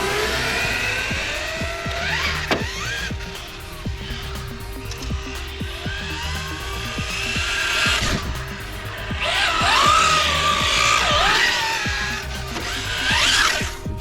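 Kyosho Fazer Mk2 four-wheel-drive RC car running on an outdoor course, its small electric motor whining and rising in pitch through repeated bursts of acceleration and tire scrabbling, fairly close and continuous.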